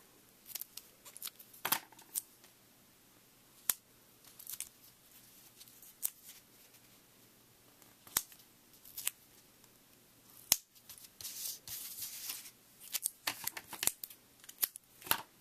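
Scissors snip black foam tape in a quiet room, a string of short, close, crisp cuts in irregular bursts, with no talk.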